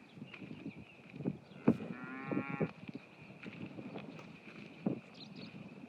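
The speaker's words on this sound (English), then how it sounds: "We have 11 baby cows. Look at them." Cows and young calves on a beef farm moo outdoors, one drawn-out low moo standing out among scattered quieter calls and rustling, with light wind noise in the background.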